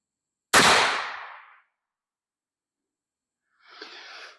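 A single loud, sharp 450 Bushmaster rifle shot from a CVA Scout V2 firing Hornady Black 250gr FTX ammunition outdoors, with a decaying echo afterward, then a softer brief noise a few seconds later.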